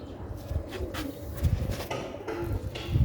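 A Sialkoti pigeon coos in soft, low, repeated throaty calls, with a few faint chirps and some shuffling around it, close by.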